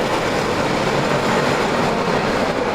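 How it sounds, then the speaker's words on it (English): An amusement park ride train at Knott's Spooky Farm in Buena Park rolls into its station, a steady, loud rumble of wheels and cars that fills the whole moment without voices. "So the train just came into this particular station."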